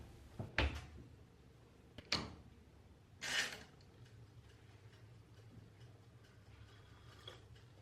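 An oven door clunks and clicks as buttered toast goes in, a few sharp knocks and a brief rattle spaced apart in a quiet kitchen, close and fairly soft.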